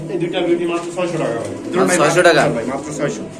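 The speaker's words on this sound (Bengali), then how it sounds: "দুইটা বিউটি কবুতর দেখতে পাচ্ছেন" A pair of Beauty pigeons for sale at a bird market coo softly in low, rolling calls, with people talking over them close by.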